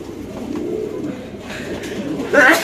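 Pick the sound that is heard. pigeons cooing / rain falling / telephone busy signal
pigeons cooing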